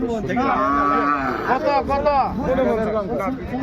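Heifer calves at a cattle market moo several times in long, drawn-out calls, close and loud, with faint crowd chatter behind.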